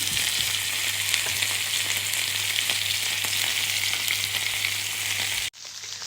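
Steady, loud sizzling of chicken liver and orange slices frying in a hot pan, continuous and close, cutting off abruptly near the end.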